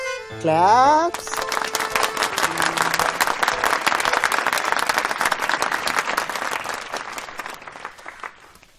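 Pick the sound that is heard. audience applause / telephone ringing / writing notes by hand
audience applause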